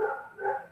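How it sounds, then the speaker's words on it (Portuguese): Dogs outdoors let out two short, faint barks in quick succession, heard from a distance. "Os cachorros estão loucos fora, galera."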